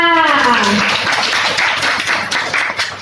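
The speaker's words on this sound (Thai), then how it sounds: "ขอเสียงปรบมือให้เพื่อนค่ะ" An audience claps for a friend at a personality-training session for a charm club, a burst of scattered applause that follows a voice and slowly fades.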